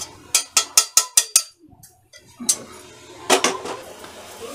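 Metal pots and utensils clink and clatter as roasted rice and moong dal are taken off a switched-off gas stove, a quick run of sharp knocks followed by scattered scraping clanks, close by.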